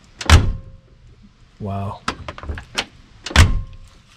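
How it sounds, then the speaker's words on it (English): The car door of a 1969 VW Baja Bug slams shut twice, heavy solid thuds with a latch click, and someone speaks briefly between the closings. "Wow, the door closes nice."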